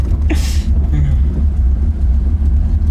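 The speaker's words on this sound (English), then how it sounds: "This thing's got that throaty Z28 Camaro rumble" A 1970 Camaro Z28 with a cammed V8 idles close by, a deep, steady, throaty rumble with a lumpy pulse, while people talk briefly over it.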